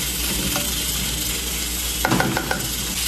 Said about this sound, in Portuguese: Fritou já o arroz